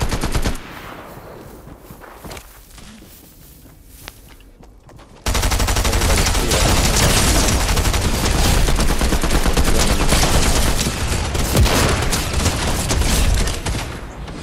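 Automatic gunfire in a no-build trio match of Fortnite, starting as scattered distant shots, then bursting into dense, loud, sustained rapid fire and crackling fusillades that continue to the end without talk.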